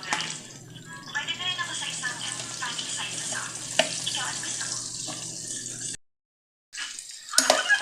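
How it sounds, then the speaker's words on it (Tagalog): Ginger, garlic and onion sauté in a pan for ginisang sitaw, giving a steady close sizzle with stirring scrapes and a low hum, a brief pause near the end, then the sizzle returns. "Nagigisa na tayo ng luya. At syempre yung ating bawang sibuyas."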